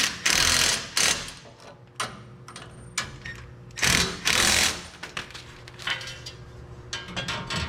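A custom front winch bumper bottom plate being bolted onto a Nissan Frontier, with bursts of a whirring power driver and ratcheting, clanking metal hardware nearby, loud in spurts with quieter tool handling between and no talk.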